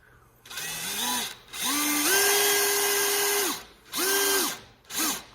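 A power drill countersinks screws into a wooden deadlift platform in four whining bursts of varying length, each rising in pitch as the motor spins up, then dropping off into short silences.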